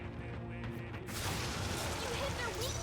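A fire spell strikes enemies in the Metaphor: ReFantazio video game, bursting in about a second in with a loud, roaring whoosh of flame over a steady musical backdrop, with voices heard around it.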